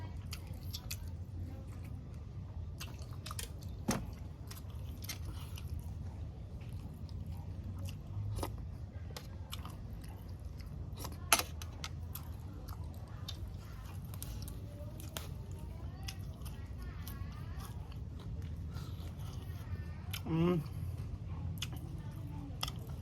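Spicy swamp eel soup being eaten at close range: soft wet chewing and squishy bites with occasional slurps and small crunches, quiet and continuous over low background hum.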